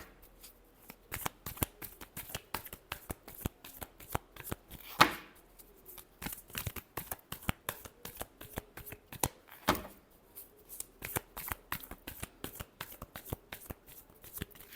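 Tarot cards being shuffled by hand, a steady run of crisp riffling slaps repeating at an even pace for a long stretch, close and fairly quiet, with no talking.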